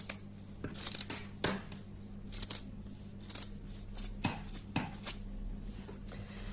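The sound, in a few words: cutting fabric with scissors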